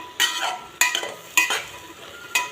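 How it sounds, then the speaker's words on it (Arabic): Peas sauté in ghee with onion as a utensil stirs the pan in four quick scraping sweeps over a soft sizzle. The sounds are close and evenly spaced, with no talking. "دي البسله لسه شغاله مع السمنه بتتشوح مع السمنه والبصل."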